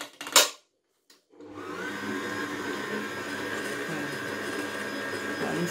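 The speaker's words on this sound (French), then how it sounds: "Et on va laisser pétrir pendant 3 minutes. À vitesse moyenne." After a short clatter and a pause, a stand mixer starts kneading panettone dough at medium speed, settling into a steady, droning motor whir with a faint rhythmic churn, close and continuous.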